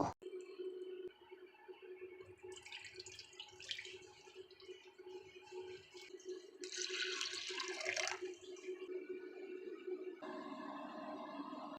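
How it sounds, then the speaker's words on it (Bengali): A handful of red lentils (masur dal) is rinsed with clean water in a bowl. Soft splashing and trickling water come in a few bursts, quiet and close, with a low hum underneath and no speech. "ডালগুলো ভালো করে পরিষ্কার পানি দিয়ে ধুয়ে নিব"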